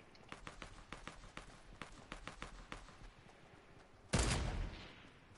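Rhythmic soft footsteps patter through a Fortnite match before a single loud, sharp sniper rifle shot cracks out near the end and briefly rings off.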